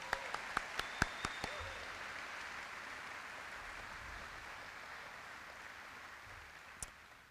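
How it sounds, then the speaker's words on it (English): Audience applause at an Air Force command ceremony, a soft, distant wash of clapping that fades gradually, with a few sharper knocks and clicks near the start. "how about a big round of applause for Chad and that national anthem?"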